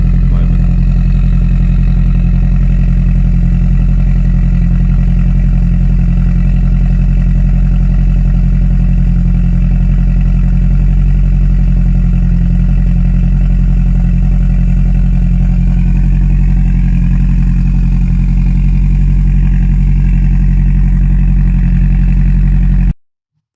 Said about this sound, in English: Let's see what my exhaust sounds at the moment.